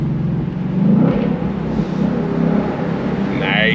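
Engine of a 2025 Ford Mustang GT/CS muscle car rumbling steadily with revs rising and falling through gear shifts, a loud continuous low drone with a brief higher whine near the end.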